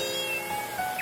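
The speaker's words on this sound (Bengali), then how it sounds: "বিলাই কান্না করতেছে" A cat meows faintly a couple of times near the end, over a dense steady background hum while bamboo-tube cooking is underway.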